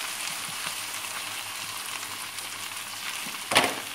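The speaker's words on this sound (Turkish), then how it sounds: "Arkadaşlar yağım iyice kızdı. Şimdi eriştelerimi atıyorum içine." Noodles dropped into hot butter give a steady soft sizzle and frying hiss, with a brief louder crackle near the end.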